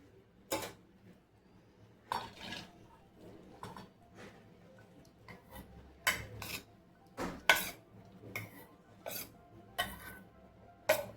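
Sabudana (sago pearls) is spooned out into a small kadai: a quiet, close series of sharp clinks and taps of spoon on metal at irregular intervals, with soft rattling in between and no speech.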